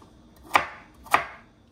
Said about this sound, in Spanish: Estamos cortando aquí las zanahorias.